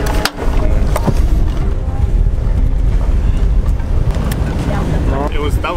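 A sailboat motors out under engine power in the Caribbean, with a loud, close, continuous engine and water rumble mixed with wind buffeting on the microphone, while people talk over it.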